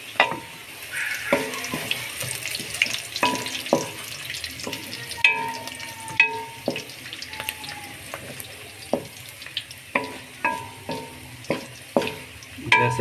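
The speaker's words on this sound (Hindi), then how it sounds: "लहसुन की तुरियां डालेंगे।" Whole garlic cloves tossed into a sizzling tadka for dal, a constant frying hiss broken by regular spoon clinks and stirring knocks against the pan.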